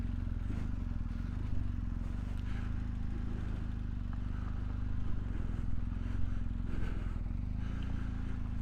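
Motorcycle ride on a coastal road toward Cape Point at sunrise, a steady low engine drone with constant wind and road rumble, close and loud throughout.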